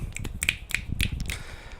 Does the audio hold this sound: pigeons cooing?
no